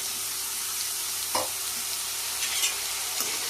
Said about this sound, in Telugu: కొంచెం తిప్పేసి